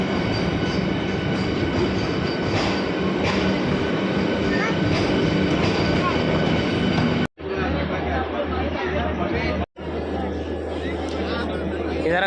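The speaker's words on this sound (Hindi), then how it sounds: "ये हमारी ट्रेन है दिल्ली से कटरा के लिए, वैष्णो देवी यात्रा के लिए" Vande Bharat Express train from Delhi to Katra, heard from onboard or on the platform as a constant rumbling roar with wheel noise, then two abrupt cuts to quieter segments, with people chattering throughout.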